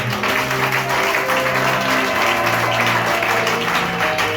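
Sunday church congregation applauding and cheering in praise, a dense, loud, continuous roar of clapping mixed with sustained tones and voices throughout.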